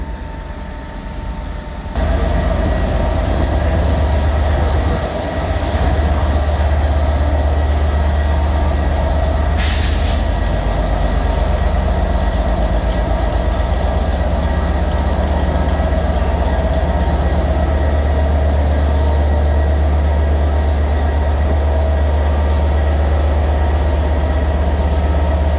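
A Class 67 diesel locomotive pulls out of Shrewsbury station bound for the depot, its loud, steady engine rumble and drone filling the scene, with wheel and rail noise and a brief squeal partway through.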